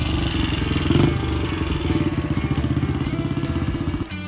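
A 1965 Royal Enfield Continental GT motorcycle engine runs close by with a steady, rhythmic pulsing chug that cuts off abruptly near the end.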